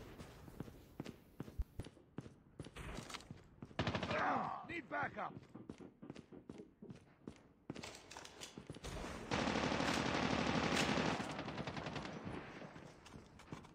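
Mechanised Rain gunfire in Call of Duty Mobile crackles in rapid automatic bursts alongside game footsteps and effects, loud and dense in places, with occasional voice chatter beneath.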